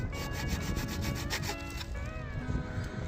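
An old hand saw cutting through wood, quick repeated back-and-forth rasping strokes, close and steady for a few seconds.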